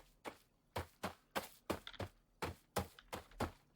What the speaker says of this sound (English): if I now walk along the grass, we should hear grass footsteps play